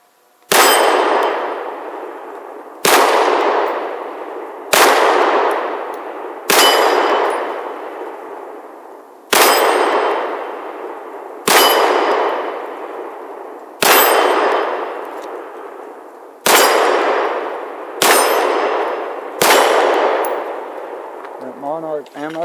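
Nine sharp metallic clangs ring out at steady intervals of about two seconds, each one decaying slowly, as HK VP9 pistol rounds of Monarch ammunition strike steel targets. A faint crackle trails at the end.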